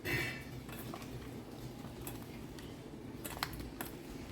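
Ginger garlic paste being mixed in a pot for moong dal, faint clinks and scrapes of a spoon against metal, a few quiet taps over a low room background with no speech.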